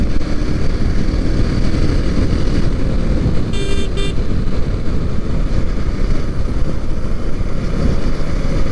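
A motorcycle riding on a road, heard as a loud, steady roar of engine and wind noise throughout, with a brief horn-like tone cutting through partway.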